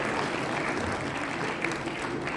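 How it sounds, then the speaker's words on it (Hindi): An audience at a mushaira claps at a Sir Syed Day gathering, a dense, steady patter of many hands that sounds slightly distant and fairly soft, holding evenly throughout. "एक बार फिर तालियां अहमद सलमान के लिए"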